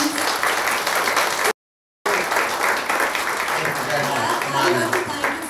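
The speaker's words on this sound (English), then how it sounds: "please can we all give a huge round of applause for Brad" An audience claps warmly for Brad Cohen at a public event. Sustained applause of many hands fills the room, cut by a brief gap, while a speaker's voice rises beneath the clapping toward the end.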